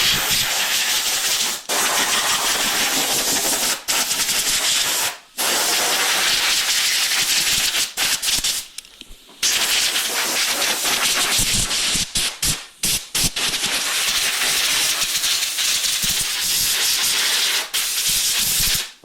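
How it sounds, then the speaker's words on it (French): A compressed-air blow gun dries a Commencal Meta Power SX Bosch e-bike with loud, sustained hissing blasts, broken by several brief pauses. "Et tous les petits endroits, vous allez voir, la soufflette c'est de la bombe."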